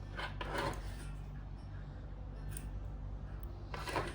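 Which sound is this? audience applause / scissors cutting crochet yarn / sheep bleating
scissors cutting crochet yarn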